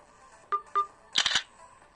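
An LG phone's camera shutter: two short, clear electronic blips followed by a brisk, bright snap-like burst, close and fairly loud with no talking.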